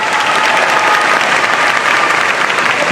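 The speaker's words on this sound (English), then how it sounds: "Give her another hand" A crowd at a prom applauds steadily after a speech, dense clapping filling the room at an even, loud level throughout.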